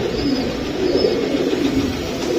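A pair of silver pigeons coos steadily, a soft continuous murmuring with repeated low coos close by, without any talking.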